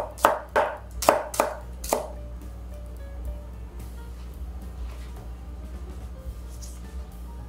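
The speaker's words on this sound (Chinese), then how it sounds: "红葱头切片， 厚薄度尽量一致哦。" A knife slices shallots on a cutting board in five or six crisp, evenly spaced chops close up, followed by a quiet kitchen background.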